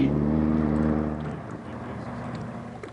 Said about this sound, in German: Da kommt einer mit dem Motorboot!